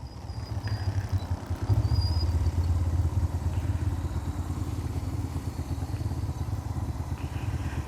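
A motorcycle rides steadily through Islamabad, its engine a low, constant drone with a throbbing rumble and faint clatter, sustained and close for the whole stretch without speech.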